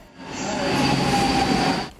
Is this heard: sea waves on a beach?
no